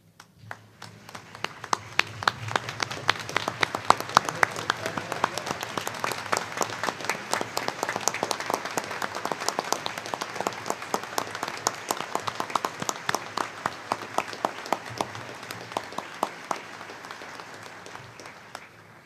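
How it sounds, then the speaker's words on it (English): Sustained applause fills the hall as a graduation audience at the Naval Postgraduate School gives its faculty a standing ovation, dense steady clapping from a large crowd that swells early and holds evenly to the end without speech. "join me in giving a standing ovation to your faculty"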